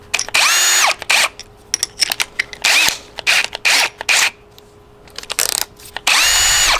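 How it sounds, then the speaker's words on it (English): A power drill drilling thin metal of an ammo can whines in repeated short bursts, revving up and stopping several times, loud and close, with brief quiet gaps between runs. "it's pretty thin, pretty easy to drill."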